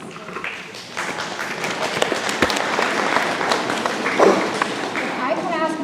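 An audience claps at a 7th grade National Junior Honor Society induction ceremony, a broad wash of applause from a crowded hall mixed with murmured voices.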